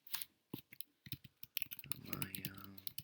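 Typing on a computer keyboard, sharp irregular key clicks in quick bursts, close and fairly quiet, with a voice speaking over the later taps.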